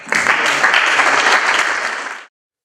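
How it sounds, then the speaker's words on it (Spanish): Loud, dense applause from an arbitration conference audience, clapping steadily for about two seconds before stopping abruptly. "Lo recibimos con un fuerte aplauso."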